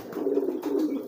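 Domestic pigeon cooing in a low, rolling murmur, a continuous close-up burble with two swells across about a second, no voices present.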